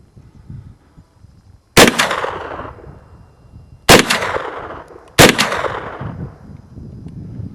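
Three loud, sharp gunshots from a pink Just Right 9mm carbine firing Winchester white box full metal jacket ammunition, spaced about a second or two apart, each with a ringing outdoor decay and no talking.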